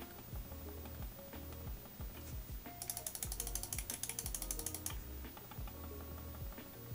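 A Logitech MX Master 3S mouse gives soft, quick clicks, then a fast burst of rapid clicking in the middle, all faint against low background noise.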